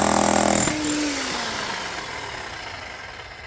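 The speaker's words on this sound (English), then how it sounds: "This is it on hammer mode." A DeWalt cordless hammer drill, found abandoned in woods, hammers loudly in hammer mode for under a second, then winds down with a falling whine that fades out.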